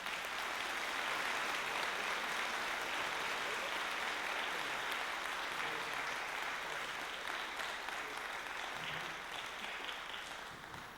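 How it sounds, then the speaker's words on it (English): A concert audience applauds steadily for graduating senior percussionists at a high school band spring concert, a dense, loud wash of clapping that holds for the whole stretch and tapers slightly at the end. "Can we please give them a big round of applause?"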